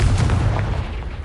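A Confringo blast spell goes off in Hogwarts Legacy, a short, loud, booming explosion with a deep low-end thump and a quick rumbling tail.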